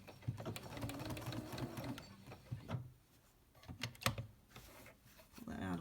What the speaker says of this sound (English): Lining up my foot with the edge over here, and then I back stitch straight off the back.